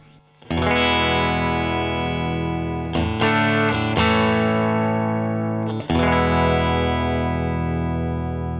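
Fender Stratocaster electric guitar on its bridge pickup through a Fender Vibro-King amp, ringing out three sustained, bright chords one after another, close and loud with a touch of effects.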